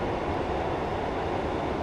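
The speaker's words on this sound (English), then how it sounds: "I'm just going to shut off the power and allow the train to coast." A Class 142 Pacer train coasts with the power off at about 55 mph in Train Simulator 2018, giving a steady, dense rolling rumble of wheels on rail with no talk.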